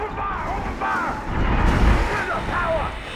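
Gunfire and heavy booming blasts from the sci-fi horror game Dead Space rumble through a tense scene, with voices talking and shouting over the shots.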